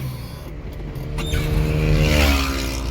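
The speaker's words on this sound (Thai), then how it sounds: "นี่ขึ้นเกียร์หนึ่งสบายสบายเลยนะครับ กดคันเร่งนิดนึง" A vehicle pulls away in first gear with a little throttle, its engine rising into a louder steady drone that swells and holds close by.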